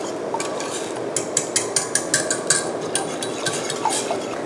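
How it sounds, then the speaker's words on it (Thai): A spoon stirs spinach cream soup made with whipping cream in a pot. Close, steady scraping strokes and light clinks repeat in a regular rhythm against the pan, with no talking. "อย่าลืมที่จะต้องคอยคนแบบนี้ด้วยนะคะ"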